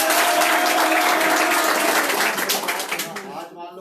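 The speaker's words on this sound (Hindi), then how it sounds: "सुरेश जी वास्ते तालियां बजाओ" Loud applause from a crowd at a university students' union rally, dense clapping with shouts and voices mixed in, tapering off toward the end.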